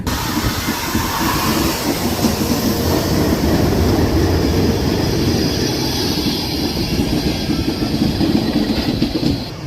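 The 17329 Express pulls into Guntur Junction with a loud, steady rumble of rolling wagons and engine noise. Faint clicks and hiss run under it without a break, and no one speaks.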